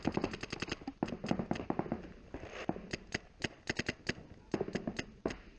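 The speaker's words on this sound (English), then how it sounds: "I'm shooting directly down the field at the 50," Paintball markers pop in rapid, irregular volleys across a tournament field during an NXL paintball game, sharp distant-sounding snaps clustered in quick strings over a steady background.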